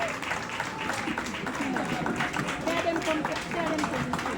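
A graduation audience at a high school ceremony claps steadily in a dense, continuous patter, with voices mixed in beneath the applause.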